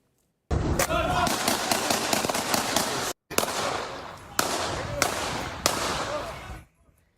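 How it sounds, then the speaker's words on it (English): Rapid bursts of sharp gunshots, at least ten, crack one after another in two long volleys in a Los Angeles-area neighborhood, loud and echoing, with a short pause between them. "you can hear at least 10 gunshots fired in this neighborhood"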